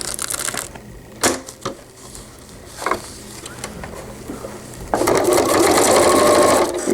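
Sewing machine stitching a cloth diaper cover with gussets: a few isolated clicks and knocks of the machine, then a sudden loud burst of continuous rapid stitching near the end.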